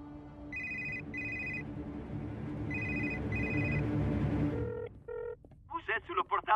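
Repeated electronic mobile phone ringtone in paired bursts over a murmur of background noise, followed by a voice speaking briefly in French, from a cartoon.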